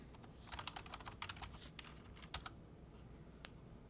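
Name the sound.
typing a name on a computer keyboard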